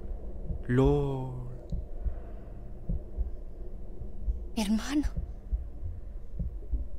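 A heartbeat effect in the video game Beyond Two Souls gives low, steady thumps under in-game voices, with a cry and a short shout cutting over it.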